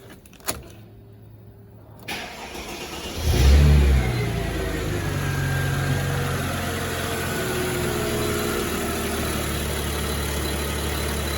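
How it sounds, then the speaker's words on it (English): A 2004 Chrysler Crossfire with a 3.2 V6 cranks briefly after a few clicks, fires up with a short rev, and settles into a smooth, steady, quiet idle heard up close. "It actually does sound like a nice quiet V6 engine."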